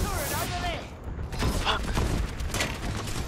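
Dense, rapid gunfire and sharp sniper shots crackle through a busy Overwatch competitive match, loud and continuous, with a voice talking over the fight.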